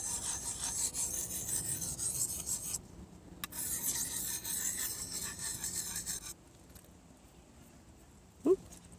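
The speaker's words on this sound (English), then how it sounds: "I still need to do the circles, even with the stropping blade, but I kind of almost do it backwards. I'm more dragging it than I am pushing it." A knife blade is dragged in circles across a sharpening stone, giving a continuous gritty scraping rasp in two long passes, then a quieter pause and a brief knock at the end, close and fairly soft.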